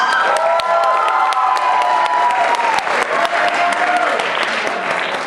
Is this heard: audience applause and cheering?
yes